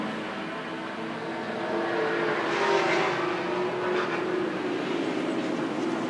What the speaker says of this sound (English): Beautiful sound of that. What sort of motor's that thing got? Chevy V8 in the Washburn entry.